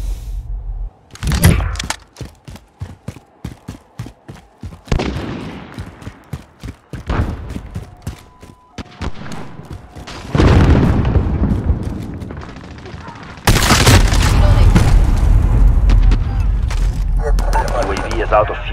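Call of Duty Modern Warfare team deathmatch gameplay: rapid bursts of automatic gunfire crackle in quick rhythmic volleys, then a loud grenade blast and sustained explosive roar swell near and heavy, with in-game radio voices calling out over the battle.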